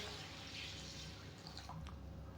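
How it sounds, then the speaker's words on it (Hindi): Water trickles and drips into a bowl of urad dal (dal mash) being rinsed in a kitchen, a soft continuous splashing with a few brighter drips toward the end, faint and close with no talking. "दाल माश डालने के बाद इसमें खुला पानी डाल दूंगा"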